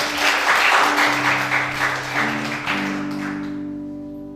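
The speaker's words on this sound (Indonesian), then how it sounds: "Tepuk tangan bagi Tuhan" Church congregation at an Easter service breaks into dense applause, a loud crowd of clapping hands over sustained organ or keyboard chords, fading out as the music holds.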